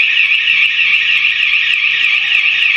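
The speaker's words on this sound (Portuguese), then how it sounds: "Esse alarme já disparou umas 3 vezes." A loud indoor alarm in a kitchen with a newly installed stove shrills continuously, a piercing high warbling electronic tone that holds steady throughout with no talk over it.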